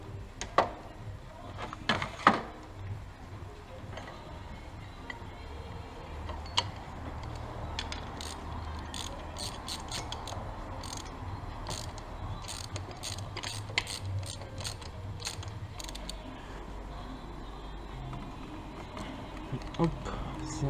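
An 18 mm wrench tightens the water pump pulley on a Dacia MCV 1.5 dCi 70 hp engine during a timing belt job. It makes scattered close ratcheting clicks and clacks, some in quick clusters, over a low steady background hum.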